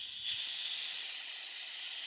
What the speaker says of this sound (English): blow that hose out, everything out